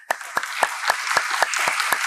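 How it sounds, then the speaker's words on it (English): Audience applause in a lecture hall at a talk on harnessing mind power: a steady wash of many hands clapping, with sharp sparse claps standing out in a regular beat, fairly close and without speech. "Give him applause."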